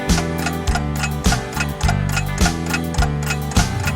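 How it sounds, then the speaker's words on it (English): A grandfather clock ticks and tocks in an even rhythm, with loud, regular beats about every half second, set against bright, upbeat music from a children's song. "Grandma's clock, it ticks and tocks."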